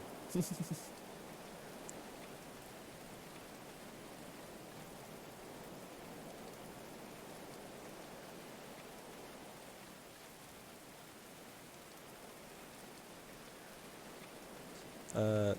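Steady rain falls in the medieval colony-building video game Going Medieval, a dense, even hiss that holds throughout with no pauses, broken only by brief clicks at the very start and end.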